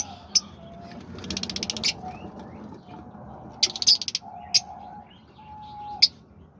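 Parakeets, lovebirds, cockatiels and diamond doves in an aviary give scattered sharp chirps and short rapid twittering bursts, with a few soft tonal whistles and coos over a low steady room hum.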